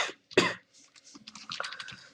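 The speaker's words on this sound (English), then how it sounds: "I'm getting cough for that" A single sharp cough from someone with a winter cold, close to the microphone, followed by faint scattered clicks and rustles in a quiet room.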